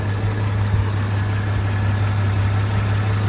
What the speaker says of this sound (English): that motor's just running super nice